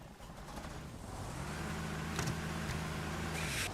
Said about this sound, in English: Ah, an actual truck.